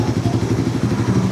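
A Suzuki Raider FI motorcycle engine idling nearby with a low, steady, pulsing putter and slight mechanical clatter.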